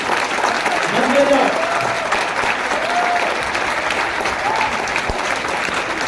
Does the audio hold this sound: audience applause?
yes